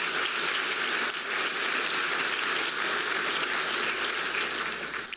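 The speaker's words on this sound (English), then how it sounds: "I want to ask you to give them a hand of applause for their work and commitment here" Sustained audience applause for hotel workers at a city address in Roanoke, dense and steady throughout, fading slightly at the very end.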